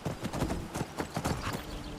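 Horse hooves in Skyrim clip-clop in a steady, close rhythm of repeated strikes, moderately loud and heard alone.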